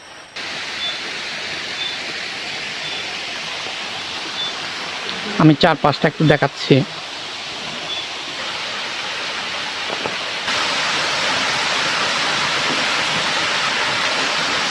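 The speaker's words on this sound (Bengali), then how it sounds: "আমরা কাঙ্ক্ষিত যে ফকির মুরং ঝর্ণা সেখানে পৌঁছে গেলাম" A steady, broad roar of the Fakir Murong waterfall among large rocks in Kaptai, Rangamati, fills the scene, growing louder toward the end, while a person speaks briefly over it.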